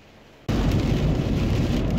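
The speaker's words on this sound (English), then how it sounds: "certainly persisting down with rain and very windy at the moment" After a brief quiet moment, heavy West Coast rain and gusting wind suddenly roar in, loud and constant, with no talking.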